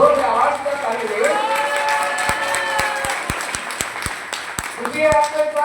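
A crowd cheers and shouts with voices overlapping, then breaks into a series of distinct, loud individual claps in a quick rhythm before voices rise again.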